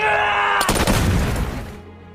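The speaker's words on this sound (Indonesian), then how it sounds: "di sana Brinkman mulai mengambil ancang-ancang untuk menembak" A gunshot from the war film The Kill Team: one sudden, loud blast cuts through a quiet hum and leaves a rough, booming tail that fades over about a second and a half.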